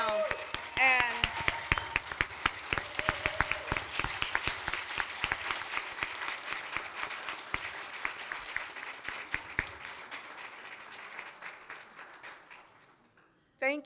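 A church congregation claps warmly during a Black History celebration, with many distinct hand claps building and then tapering off over about ten seconds, followed by quiet and a voice starting at the end.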